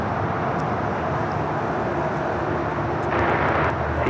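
An airliner arriving at Los Angeles International Airport gives off a steady, broad roar of jet engine noise that swells slightly toward the end, with a faint whine on top.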